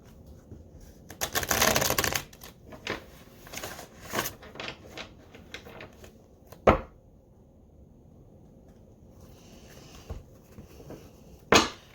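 Tarot cards are shuffled roughly by hand: a loud, dense riffle burst early on, then scattered softer taps, snaps and card slaps, with one sharp knock midway and another near the end. No one speaks.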